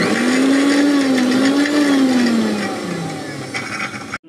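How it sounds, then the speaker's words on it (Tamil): A mixer grinder whirs loudly and steadily as coconut and fennel are ground into a paste, the motor pitch wavering and easing before it cuts off abruptly near the end. "இப்போ இதை கொஞ்சம் பேஸ்ட்டாக அரைச்சி எடுத்துக்கலாம்"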